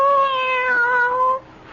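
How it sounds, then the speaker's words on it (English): A cat meows in one long, clear, tonal cry that lasts over a second and then stops, sounding close and fairly loud. It is a sound effect in a 1974 radio drama, with no talk over it. "Why, you're purring"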